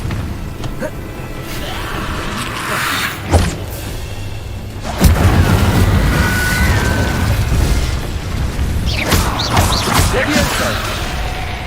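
Incendio fire spell cast in Hogwarts Legacy, a fiery magical burst with booming blasts and crackling flare-ups over dense game effects and music, a strong hit near the middle followed by sustained rumbling.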